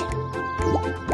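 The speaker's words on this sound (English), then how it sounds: "Lots of bubbles!" Cartoon bubble pops in a children's animated episode, a quick series of soft watery drips and pops with a rising squeaky blip, close and light over a faint background tone.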